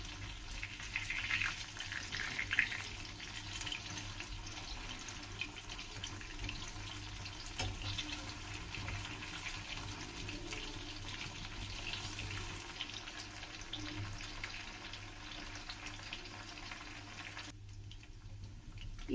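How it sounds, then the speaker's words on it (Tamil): Chicken 65 pieces fry in hot oil over a medium flame, giving a steady, soft, continuous sizzle and crackle that runs evenly throughout before cutting out near the end. "இப்போ இது நல்லா ஃப்ரை ஆயிடுச்சு"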